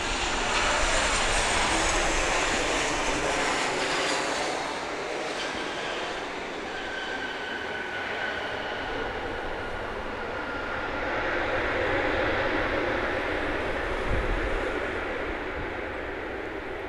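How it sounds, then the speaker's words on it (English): An American Airlines jet at Grand Cayman airport roars steadily with a broad, loud engine rush and a whining high tone, swelling and easing as it passes, with no talking. "All right, here comes our next American aircraft."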